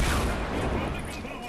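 Gunshots fired at a base in Fortnite merge into a dense, loud barrage of booming reports, continuous across the moment with a slight fade toward the end, while a player talks over it.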